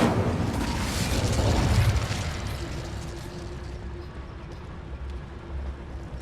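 A burst of fire from the Incendio spell cast in Hogwarts Legacy, a broad roaring whoosh lasting about two seconds that then fades into a lower sustained crackling rumble with a faint steady tone.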